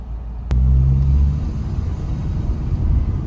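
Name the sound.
car driving along a city street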